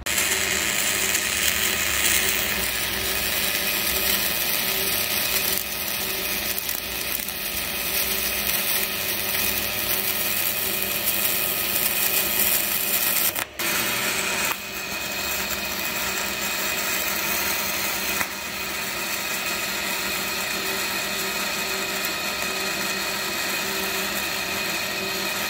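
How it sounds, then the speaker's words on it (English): Welding beads across a Peterbilt truck frame during a frame stretch: a steady, loud, crackling buzz that holds for about 25 seconds, with one brief break near the middle. "I'm gonna have to fill this with weld all the way across there"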